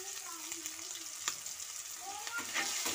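Ginger frying in a little oil in a pan, a soft steady sizzle with faint stirring, low and close, no talking.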